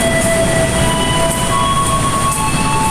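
Commuter train at Tanah Abang station, a steady rumbling hum with faint high squeal tones and constant platform noise, loud and unbroken, no talk.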